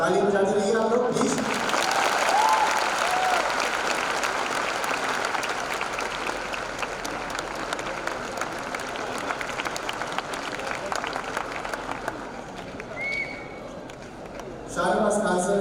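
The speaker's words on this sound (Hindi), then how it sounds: "ताली बजाते रहिए आप लोग प्लीज।" Sustained audience applause at a teachers' award ceremony in Bapu Sabhagar, a thick continuous clatter of many hands that fades slightly toward the end, with a voice speaking over it at the beginning and again at the close.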